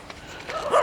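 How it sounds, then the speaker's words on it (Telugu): Dogs bark at night beside a railway track, one short yelping bark rising near the end over a quiet, faintly hissing background. "కుక్కలు అరుస్తున్నాయి, కుక్కలు"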